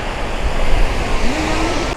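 Waterfall water pouring down at Muradiye, a loud, steady rushing roar heard close up, with wind buffeting the microphone and no voices.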